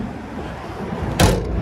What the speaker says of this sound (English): A little quick storage door there.